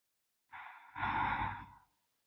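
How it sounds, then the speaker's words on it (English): Ujjayi yogic breath draws through the nose in two close, soft airy passes, a short rush followed by a longer ocean-like exhale, alone in quiet. "this is the Ujjayi Pranayam, or the yogic breath, the victorious breath as it's translated to"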